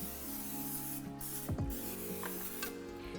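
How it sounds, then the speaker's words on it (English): A short burst of cooking spray hissing close by into a metal 9x13 cake pan, with a few quick squirts and light metallic handling noises around it. "spray it with cooking spray"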